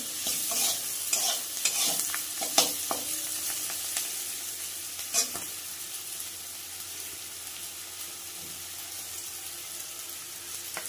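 A pan of shapla (water lily stems) with shrimp fries and is stirred, giving a steady close sizzle under occasional scraping and clinking of the spatula against the pan, with no voices.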